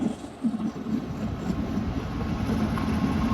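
An Indian Railways train, number 07050, approaches with a steady low rumble and rolling wheel noise that builds gradually, though no clear horn blast stands out; no one speaks.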